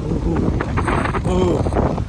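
Wind gusts hard across the microphone on top of Asherigad fort, a loud, steady roaring rush that lasts the whole moment with no clear pauses.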